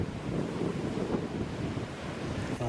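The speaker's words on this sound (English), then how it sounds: "The white waves crashing in is a perfect backdrop" White waves crash onto a hidden beach in Ireland under strong wind, a continuous roaring wash of surf with wind buffeting the microphone throughout.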